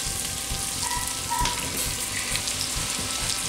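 Tomato going into onions that have turned translucent in a hot pan, frying as part of a cabbage tinga: a steady, close broadband sizzle runs throughout with faint stirring scrapes and a brief clatter, no talk.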